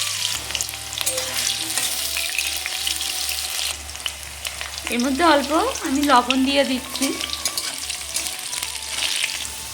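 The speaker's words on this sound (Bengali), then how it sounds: "আলুটা ভাজা হয়ে গেছে আলুটা এখন আমি তুলে নিচ্ছি" Potato pieces fry in mustard oil in a wok, with a continuous close sizzle and occasional stirring clatter, while someone talks briefly partway through.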